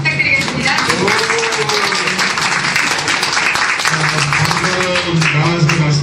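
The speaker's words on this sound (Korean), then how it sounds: "여러분 큰 박수 부탁드리겠습니다" Audience applause at a book launch event, a steady dense wash of clapping lasting throughout with some voices and possible music mixed beneath.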